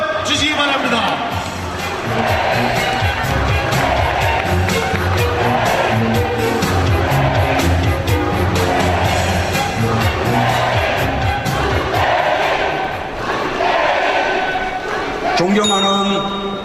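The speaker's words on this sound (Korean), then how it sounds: "뜨거운 박수로 맞이하여 주시기 바랍니다" A large crowd at a Democratic United Party regional primary rally in Daejeon cheers and applauds loudly and continuously as candidate Moon Jae-in is introduced, a dense roar of clapping and shouting.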